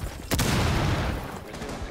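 Video game gunfire erupts in a sharp burst followed by a dense, sustained rattle of shots, loud and close, fading slightly toward the end.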